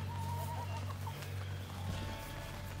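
Chickens cluck softly from a backyard coop, low steady farm-bird murmurs running through the whole stretch against a constant background hum.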